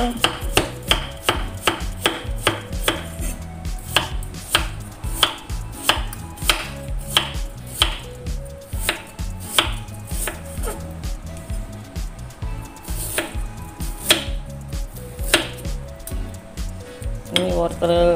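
Fresh young carrots sliced with a knife on a board: a brisk series of sharp, close knocks in an uneven rhythm, with a few light clinks of utensils between the cuts.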